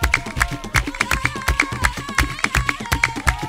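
Steady hand claps land on the beat of a Baka rhythm, crisp and evenly spaced, with sharp percussive hits and a tonal drone or voices beneath, repeating roughly every half second throughout.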